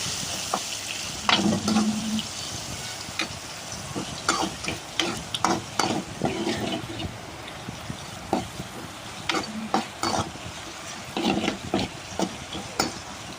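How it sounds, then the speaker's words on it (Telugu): Tomato, green chilli and peanuts frying together in a pan for Yippee noodles, continuous sizzling broken by repeated scraping stirs and clatters of the spatula, close and fairly loud, with no speech. "ఈ టొమాటో, పచ్చిమిర్చి, పల్లీలు ఇవన్నీ ఫ్రై చేయాలి."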